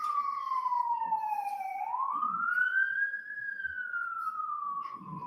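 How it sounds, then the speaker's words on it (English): A wailing siren sweeps down then up in pitch, loud and steady throughout, with faint low rumbling traffic beneath. "let me just let the siren go by"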